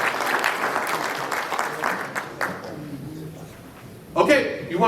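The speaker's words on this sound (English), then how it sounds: "Give yourselves a round of applause." Staff at an employee recognition meeting clap for themselves, a dense wash of applause over the first couple of seconds that fades as a voice talks, with a brief burst near the end.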